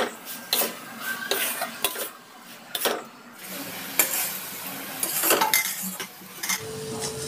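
A spoon stirs a coconut and jaggery filling in a pan, scraping and clinking against the metal in irregular bursts with brief pauses, close and clear with no voices.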